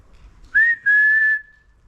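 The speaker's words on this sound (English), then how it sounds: "You heard a whistle?" A single whistled tone drifts through a railway tunnel, rising into one note, breaking briefly, then holding a long steady pitch before fading. It sounds fairly clear against a quiet, faintly rumbling background, with no talking.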